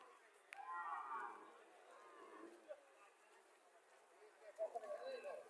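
A dairy cow at a cattle market in Chauddagram, Cumilla, moos a couple of times, nearby and moderately loud, with a shorter call near the end and faint market background in between.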